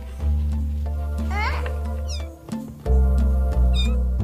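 Six-week-old kittens meow repeatedly in short, high, rising cries over a steady low hum, some calls close and loud, with a few overlapping.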